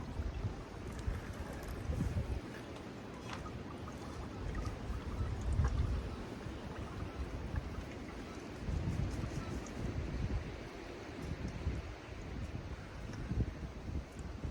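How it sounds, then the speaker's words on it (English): Hard wind blowing outdoors, a loud, continuous rumbling gust noise buffeting the microphone for the whole stretch, with a voice faintly heard now and then. "as hard as the wind is blowing today"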